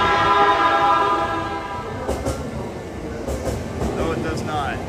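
A Yamanote line train in motion in Tokyo, heard as a steady, loud rumble of wheels with faint clacks and tonal whine, while a voice talks over it.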